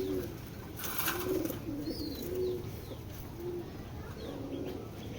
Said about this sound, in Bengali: একটা বাঘা কবুতর।